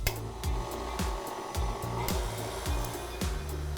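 An electric hand mixer whirs steadily while beating a room-temperature egg into cookie dough for homemade Nutter Butter cookies, with rhythmic bumps as the beaters knock the bowl, close and continuous, no speech.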